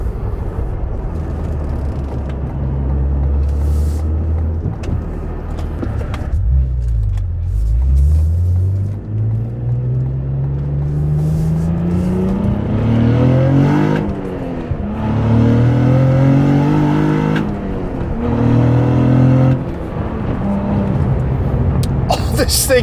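A Cadillac CT4-V Blackwing engine revs up through the gears, pitch climbing repeatedly with loud roaring acceleration; a voice speaks over it.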